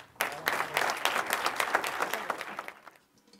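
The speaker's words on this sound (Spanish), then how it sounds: "que reciban también un fuerte aplauso para ellos" Applause from an audience breaks out sharply, a dense patter of many hands clapping at full strength before thinning and fading away near the end.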